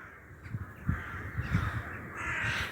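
Crows caw repeatedly at a distance, a string of harsh calls over steady outdoor background noise.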